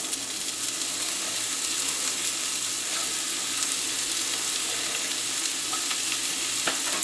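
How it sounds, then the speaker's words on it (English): Onions frying in olive oil in a pan while cooking a beef stew, a steady close sizzle with faint crackles and pops throughout and no talking. "we're going to put our onions in that pan"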